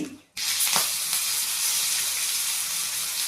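Curry leaves hit hot oil while gongura curry is being made, bursting into a loud, steady, crackling sizzle right after a brief quiet moment, with no talking.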